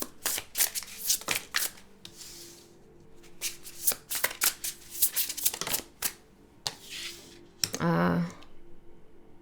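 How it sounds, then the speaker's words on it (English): Tarot cards shuffled and drawn from a deck, a close series of quick riffling flutters and crisp slaps in irregular bursts, ending with a longer riffle. "Let's get all the cards out."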